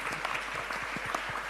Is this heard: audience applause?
yes